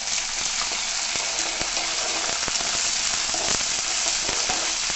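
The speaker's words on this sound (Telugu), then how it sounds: "అల్లం వెల్లుల్లి పేస్ట్ వేసుకోవాలి ఇది కూడా పచ్చివాసన పోయేంత వరకు వేసుకుంది" Onions and ginger garlic paste fry in a hot pan with a loud, dense, continuous sizzle, punctuated by light irregular ticks of stirring, close up and without speech.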